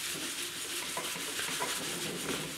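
A cloth soaked in mineral spirits is rubbed over the old varnish on the bed of a Delta 16-inch variable speed scroll saw, making a continuous close scrubbing hiss without pause.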